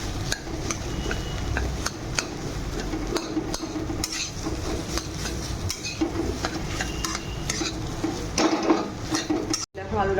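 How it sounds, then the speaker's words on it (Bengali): Mashed potato stirred together with carrot in a bowl: a steady run of soft scraping and clicking spoon strokes against the bowl, fairly close, with faint background hum and no talking. "আলুটা ভালো করে আমি মিক্স করে নিলাম"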